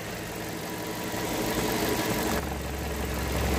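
A Toyota Corolla engine idles steadily with a low, even hum and a faint mechanical buzz, close and constant, with no talking.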